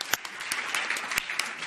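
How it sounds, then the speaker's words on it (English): A conference audience applauds a panel at a Chernobyl anniversary session on nuclear power, dense clapping with a few sharper, louder claps standing out, steady throughout the short burst. "can we once again have a round of applause?"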